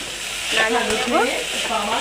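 Stir-frying snake gourd with grated coconut and green chillies in oil, a steady close sizzle with scraping stirs of a spatula through the pan, continuous and unbroken.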